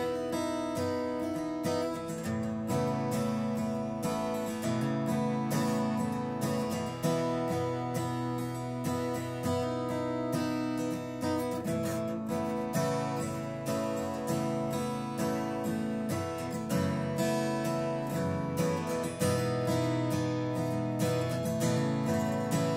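A guitar fitted with a partial capo plays full, ringing chords in a steady strummed pattern, dense and sustained throughout with no talking.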